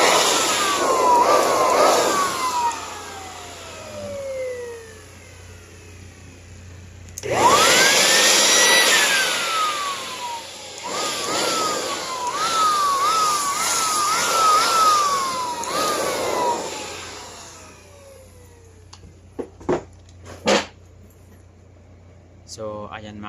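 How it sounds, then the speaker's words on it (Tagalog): A portable blower blasts dust out of a laptop in several bursts, its whining motor spinning up and down in pitch between loud gusts, with quiet pauses and a few short clicks toward the end. "meron kayong blower na portable o ano pa man na blower, dahan-dahanin nyo lang to"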